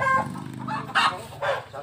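Chickens cluck in short, loud bursts from just above a goat pen, a few close, nasal calls spaced over a low farmyard background.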